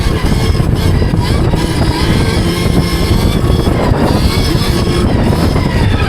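A Stark Varg electric dirt bike being ridden hard, its steady loud rush of wind and motor whine continuing without a break and with no voices.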